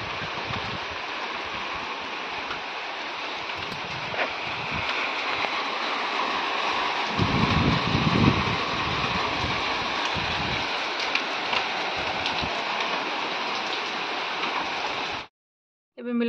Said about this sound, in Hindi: अब सडनली वर्षा